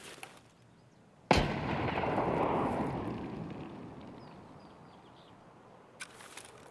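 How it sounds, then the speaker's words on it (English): A single loud grenade explosion in the video game Escape From Tarkov, a sharp close blast followed by a long rumbling decay lasting several seconds, with faint clicks near the end. "Throw a grenade in that room."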